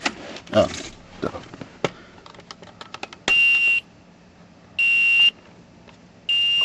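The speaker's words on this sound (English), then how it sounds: "should you want to disable that annoying ass bell, that buzzer, it's right here" A 1995-1999 Nissan Maxima warning buzzer, heard during an ignition switch replacement, sounds three loud, steady electronic buzzes of about half a second each, evenly spaced, after a stretch of clicking and handling noises.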